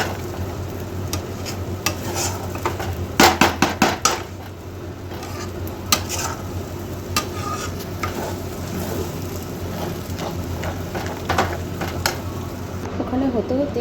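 A thick lentil dhoka mixture is stirred continuously in a karai pan, with a spoon scraping and knocking against the metal in an irregular rhythm while someone talks over it.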